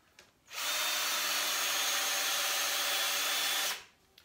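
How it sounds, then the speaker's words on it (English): A power drill bores through a real baseball, running at a steady high whine for about three seconds, loud and close, starting and stopping cleanly with no talking. "you don't want to drill through that"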